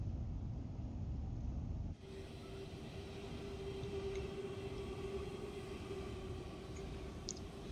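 A VIA Rail passenger train in Train Sim World 2 runs with the throttle eased down. A steady low rumble of the cab and rolling wheels holds throughout, with a faint tonal whine and occasional light clicks, and no talking.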